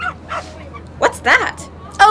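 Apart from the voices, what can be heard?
nervous dog barking on a plane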